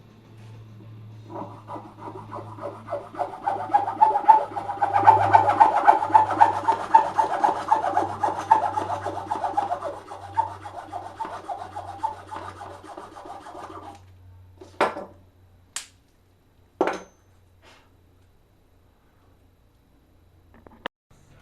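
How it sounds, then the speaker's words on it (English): A hacksaw cuts through the handle part of a homemade Endor blaster prop in steady back-and-forth rasping strokes for about fourteen seconds, close and fairly loud, followed by a few sharp knocks and taps. "Let's use a hacksaw. So now we'll cut this guy off here."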